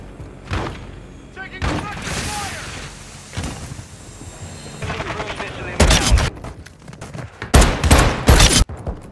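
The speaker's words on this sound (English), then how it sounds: "Taking direct fire." Video game gunfire comes in bursts of shots and thuds, with heavy volleys near the end. It is loud and close, mixed with speech and game radio callouts.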